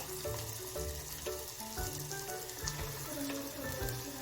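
Moth beans go into masala that is already frying in hot oil, giving a steady, soft crackling sizzle with small pops throughout and no voices.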